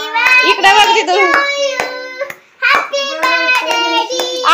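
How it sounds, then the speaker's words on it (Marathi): Hands clapping at a home birthday celebration, a run of quick, sharp claps close by, mixed in with children's and adults' voices that keep going almost throughout. "आयो परत टाळ्या वाजवत."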